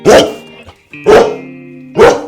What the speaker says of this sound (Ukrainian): Ти чуєш? Хто це гавкає?